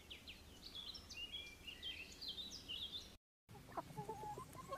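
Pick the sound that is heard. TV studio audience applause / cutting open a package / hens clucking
hens clucking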